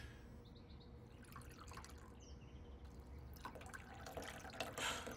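Water poured from a vessel to serve a guest in an ancient Chinese period drama setting, a soft steady trickle with faint dripping, fairly quiet and without talk, brightening and splashing more toward the end.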